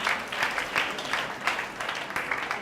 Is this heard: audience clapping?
yes